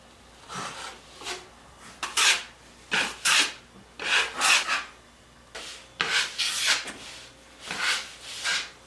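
Drywall mud being sanded by hand on an interior wall, a series of about eight rhythmic rasping strokes, close and fairly loud, with short pauses between them.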